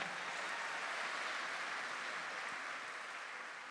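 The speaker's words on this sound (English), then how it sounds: "Give him another big round of applause." An audience at an evening symphony and mariachi concert gives a steady round of applause. The clapping sounds distant and moderately soft and holds for a few seconds.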